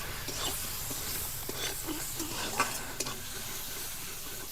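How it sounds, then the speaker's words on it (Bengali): Chopped onion frying with salt and turmeric, with a steady soft sizzle and hiss and occasional scrapes of stirring, close and alone without talk. "পেঁয়াজটা ভালোভাবে ভাজা হওয়ার জন্য দিয়ে দেবো লবণ, আর দিয়ে দেবো হলুদ গুঁড়ো, দিয়ে ভালোভাবে ভেজে নেবো একসাথে"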